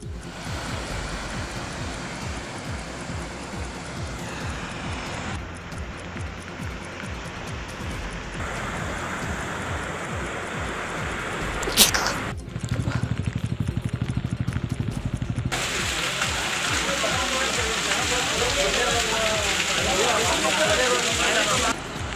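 Heavy rain pours as water rushes along flooded roads, a loud continuous wash of broadband noise that shifts in intensity across several cuts, with a voice speaking over it.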